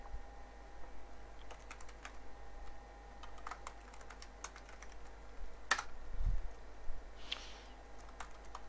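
Faint, light clicks of a computer keyboard come at an irregular pace as a password is typed, under a steady low hum, with one slightly louder tap near the end.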